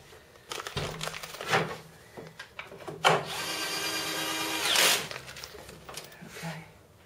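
Power tool bursts and rattling as a driver runs screws into a Euro guest bed frame during assembly, a long steady whir in the middle followed by shorter bursts, with clanks and handling noises between.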